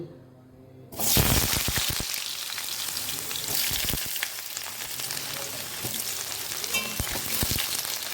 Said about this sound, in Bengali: এবার এই তেলেতেই আলু ছাড়বো